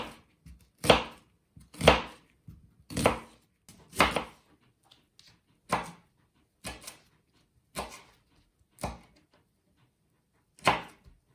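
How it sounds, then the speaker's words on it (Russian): Onions being chopped with a knife for squash caviar: about ten sharp, separate blade strikes on a cutting board in an irregular rhythm, close and clear with quiet gaps between, no talking. "Для начала я нарежу весь лук."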